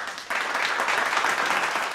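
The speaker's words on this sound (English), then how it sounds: "A big hand of applause for our gentleman here" A book launch audience bursts into applause for a speaker after a short pause, a full, even roar of clapping hands sustained at moderate distance.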